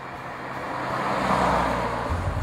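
A 2015 Subaru WRX on the road, its engine and tire roar swelling steadily as it drives, close and fairly loud with no talking.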